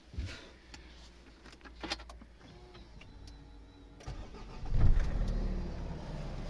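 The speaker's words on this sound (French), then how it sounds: "Véhicule démarré." A Renault Espace 4 starts after a keycard is placed, with quiet clicks and a whir, then the engine catches and settles into a steady low idle near the end.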